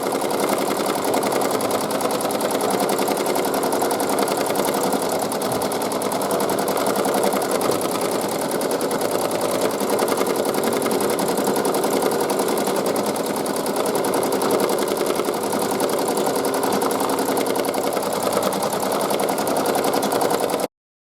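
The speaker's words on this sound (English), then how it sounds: "put the foot down and let it continue. This takes 4 minutes to embroider." Embroidery machine stitching a design onto card stock, a fast, steady mechanical whirring and needle clatter that runs continuously and loudly up close, cutting off abruptly at the end.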